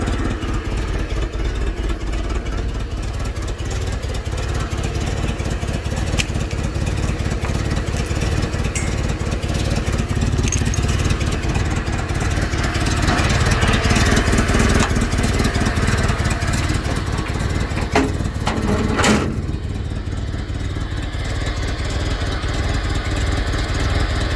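Komatsu FG25 forklift engine running steadily after starting, a loud continuous mid-pitched drone close to the microphone, with slight swells in intensity and a brief clatter near the end.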